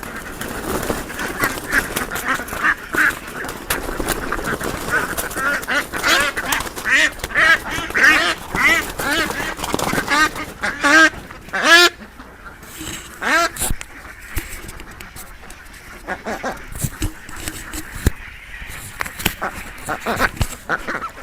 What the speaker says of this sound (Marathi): या ठिकाणी खाकी कांबेल नावाचे बदक आपल्याला